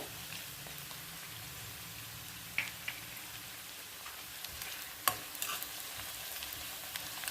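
Curry leaves sizzling in hot oil with pinkish browned onion for a spicy Vidarbha-style brinjal bharit, a soft steady crackle and frying hiss with a few sharper pops and spatters, no talking.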